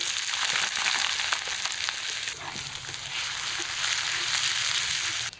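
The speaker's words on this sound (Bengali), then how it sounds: "পেঁয়াজগুলো অল্প ভেজে নিলাম" Chopped onions fry in mustard oil with bay leaf, dried red chilli, whole cumin and garam masala in a wok, giving a steady, close, continuous sizzle with crackling throughout.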